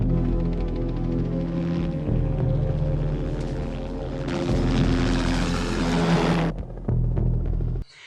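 Sinister synth drone from a 1980s sci-fi horror anime score, a dark sustained low tone with layered swells that builds, thickens midway, then drops away abruptly near the end.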